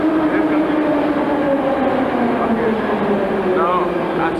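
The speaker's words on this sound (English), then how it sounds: "Now, as you see, there comes the underground train" An underground metro train arrives at a Minsk station in 1992, a loud, steady rumble and rising whine of the approaching carriages with faint clatter, voices talking underneath.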